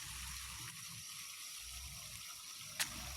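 Pressurized drip irrigation line on a Filipino farm, water trickling and dripping steadily as a faint continuous flow, with one brief sharper splash near the end and no talking.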